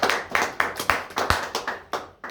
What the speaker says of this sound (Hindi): एक बार ताली बजाते हैं।